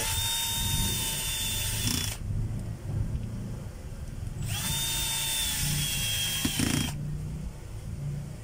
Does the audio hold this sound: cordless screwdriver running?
yes